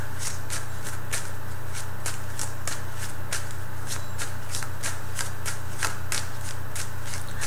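Tarot cards being shuffled by hand, a steady series of crisp riffling bursts repeating about every half second, close and clear over a low constant hum.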